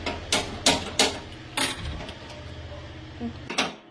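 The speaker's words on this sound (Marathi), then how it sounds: "तर चला आता कढई ठेवूया गॅसवर" Sharp metallic knocks and clatter as a kadhai (wok) is set down on a gas stove in a home kitchen, several distinct clanks close by followed by quieter scraping.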